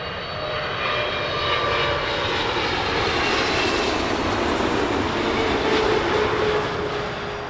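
Airliner engines roar steadily and loudly throughout as a plane arrives at Heathrow at sunrise, a continuous broadband jet rumble with a faint whine, no talk.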